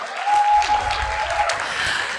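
Audience at a Class of 2024 graduation ceremony for a grade 9–12 school applauding, a dense, steady wash of clapping lasting a couple of seconds with no one speaking.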